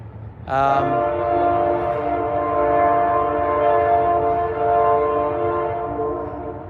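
A loud train horn blasts and holds for several seconds over the rumble of a passing double-stacked freight train of about 180 cars, then gradually fades.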